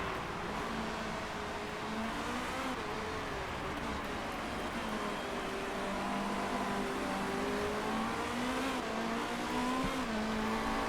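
Race cars on track in Motorsport Manager: a dense, continuous engine whine from several cars at once, with pitch rising and falling as they accelerate and brake, loud and unbroken.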